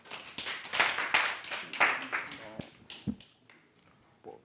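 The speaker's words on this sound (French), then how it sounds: "On applaudit ces jeunes artistes." An audience claps for young Christian rap artists at a Studio 210 award ceremony, a burst of dense applause that thins into scattered individual claps and fades out, with a few voices mixed in.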